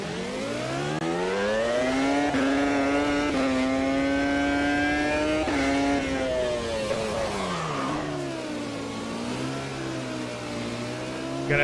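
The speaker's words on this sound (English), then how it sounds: "his car sounded like this one. Just listen when I take out of the pits." A simulated Formula 1 race car engine, likened to Schumacher's F1 car, screams loud and close as it leaves the pits in a sim racing game, its high revving pitch climbing, holding, then dropping through gear changes without any talk.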